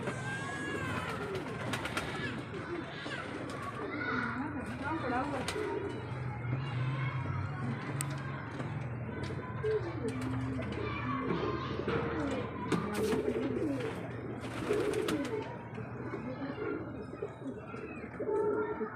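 A flock of pigeons coos steadily and close by while they are fed grain, soft overlapping throaty calls and occasional wing flutters filling the scene, with a person speaking briefly underneath.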